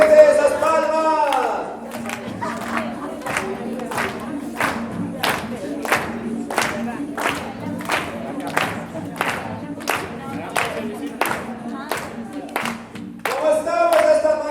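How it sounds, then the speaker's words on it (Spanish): An audience at a morning nonviolent action workshop session in Chile claps hands in a steady unison rhythm, sharp regular claps repeating for several seconds, framed by a voice talking before and after. "A ver que se note ese ambiente, gente, esas palmas"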